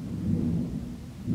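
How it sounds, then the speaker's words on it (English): A low roll of thunder during a storm, a brief, steady, deep rumble with no voices. "Every time there's a roll of thunder, he's perked up and freaked out."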